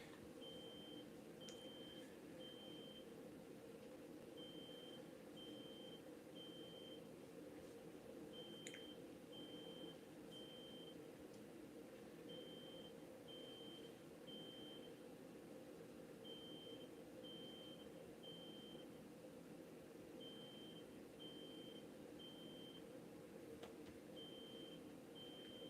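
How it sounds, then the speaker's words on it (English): Faint high-pitched beeps repeat in regular groups of three or four over a low steady hum, distant and persistent. "Marijuana, can you hear that beeping?"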